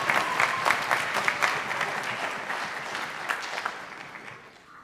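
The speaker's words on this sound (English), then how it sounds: "y'all give Brody Turner a round of applause on the spoon" Audience applause at a high school ensemble Christmas concert, following a spoon solo: a dense, steady round of clapping from a crowd that gradually tapers off, with no voices over it.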